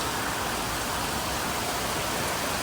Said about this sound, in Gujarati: બહુ દિવસે વરસાદ આવ્યો એટલે બહુ ઠંડક સારી એવી થશે.